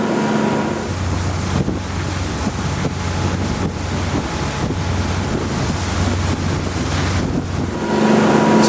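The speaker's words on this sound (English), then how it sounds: "So this boat is fitted as standard with the Volvo Penta D6 330s and stern drives" A Princess V39 motor boat with Volvo Penta D6 330 engines and stern drives runs under way. Steady wind buffets the microphone over rushing water and a low, constant engine drone.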